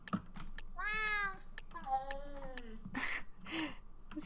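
Cats meow in a video game build battle, with several drawn-out, wavering meows in a row. Rapid keyboard typing clicks steadily underneath and the sound is fairly faint.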